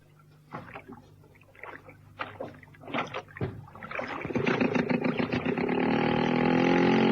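Radio drama effect of a boat on a lake in the late afternoon: a few knocks and clunks of boarding give way to a steadily louder, continuous wash of water, with no voices.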